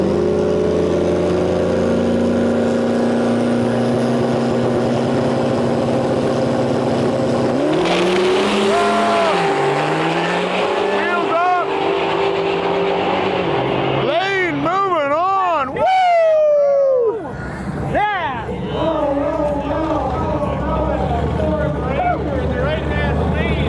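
A regular cab four-wheel-drive Ram pickup with a Cummins diesel drag races at a no prep shootout, its engine droning loud and then rising in sharp revving sweeps, with an announcer talking over the noise.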